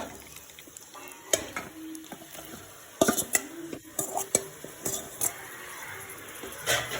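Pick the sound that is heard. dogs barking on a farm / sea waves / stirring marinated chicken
stirring marinated chicken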